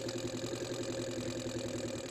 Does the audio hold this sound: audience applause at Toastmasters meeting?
no